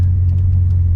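The supercharged M113K V8 swapped into a Mercedes CLK55 rumbles steadily while driving, a deep, loud, continuous low drone with faint ticks on top and no voices.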